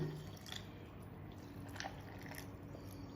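Soft trickling and dripping water poured over dried fruits, faint and steady, with a few small splashes and no voices.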